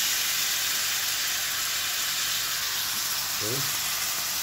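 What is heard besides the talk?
meat frying in a pan for pancit canton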